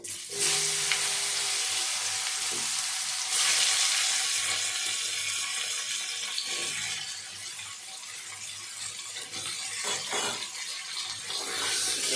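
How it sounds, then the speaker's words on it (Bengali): Green banana and potato pieces frying in oil left over from cooking hilsa fish, producing a loud, dense, continuous sizzle that swells and eases slightly across the span, with no voices. "ভেজে রাখা মাছের তেলের মধ্যেই আমি কাঁচকলা আর আলু দিয়ে দেবো।"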